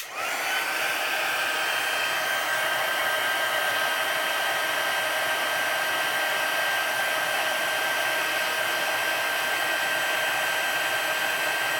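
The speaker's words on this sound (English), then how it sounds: "So I'm going to bring in my heat tool to heat set this." A heat tool blows hot air with a steady, loud whirring hiss and a constant high whine, running continuously without pause.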